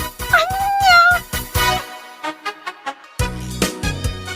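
A domestic cat meows in a few drawn-out, rising calls, close and clear, with shorter mews and bits of other noise between them.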